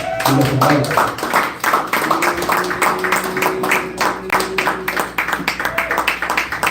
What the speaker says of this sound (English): Clap it up for Zach Mandel.